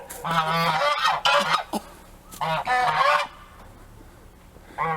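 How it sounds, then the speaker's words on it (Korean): Loud, close geese honking in harsh bursts, several calls in quick succession with short pauses between. "거위 소리가 굉장히 크네"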